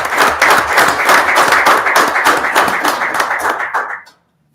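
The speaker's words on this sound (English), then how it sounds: "And so if we can give him a round of applause." A round of applause from the audience at a school board of education meeting, dense steady clapping that holds loud for about four seconds and then cuts off abruptly.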